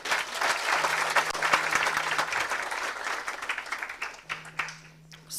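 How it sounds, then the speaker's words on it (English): An audience at a climate justice summer school in Nairobi gives a big round of hand clapping, dense and loud at first, then thinning into scattered individual claps before fading near the end. "let us give them a big hand clap"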